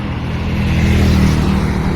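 Motorbike cruising along a road, a steady close engine drone with a low rumbling tone and rushing wind noise, loud and continuous.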